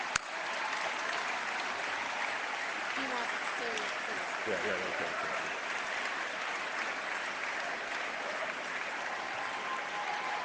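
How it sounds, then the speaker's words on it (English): Applause for MPs' staff at a Liberal caucus holiday party, a sustained, even roar of many people clapping that fills the room, with brief speech faintly under it. "Give them a round of applause."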